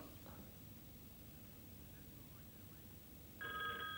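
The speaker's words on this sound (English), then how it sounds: "And that phone right there rings." A mid-1980s telephone gives one short electronic ring near the end, loud and close, after several seconds of quiet background hiss.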